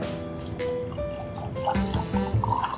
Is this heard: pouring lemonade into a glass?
yes